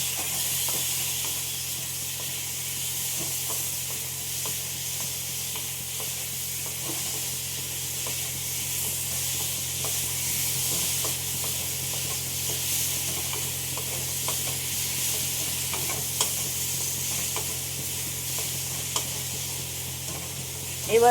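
Potatoes frying in a low-oil kadai, a steady even sizzle close by with occasional soft stirring clicks and a low hum underneath, no talking.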